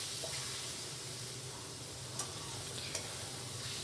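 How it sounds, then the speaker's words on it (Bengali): Soaked Gobindobhog rice is stirred through a spiced fish head curry in a pan, a steady soft sizzle with faint scraping and two light clicks of the spoon, close and alone. "চালগুলো দিয়ে খুব ভালোভাবে আবার নাড়িয়ে নিতে হবে।"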